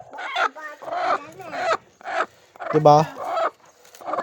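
Hens clucking in a crowded laying nest where they lay their eggs together, loud close cackles and squawks in short bursts, with a person speaking briefly among them.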